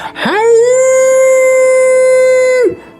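A voice imitates a giant wolf's or werewolf's roar: one loud, close, sustained howling tone lasting about two and a half seconds before breaking off.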